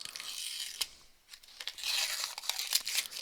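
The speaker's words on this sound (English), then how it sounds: "getting this paper off of it. It'll just peel off" Protective paper is peeled off an acrylic stand in bursts of crisp tearing and crinkling, with a short pause partway through before a longer, louder run of peeling, heard close up with no talking.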